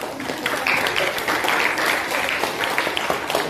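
An audience claps for a student called Mbak Alfi during a classroom or school session, a steady, dense patter of many hands sustained throughout at moderate loudness, with no voices over it.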